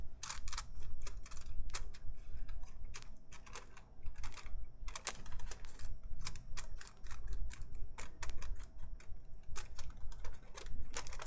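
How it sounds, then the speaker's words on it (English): Lab weigh paper being folded beside an analytical balance, a close, dense run of crisp crinkles and sharp creasing clicks that keeps going for several seconds with no talk. "So before we use weigh paper, we need to fold it."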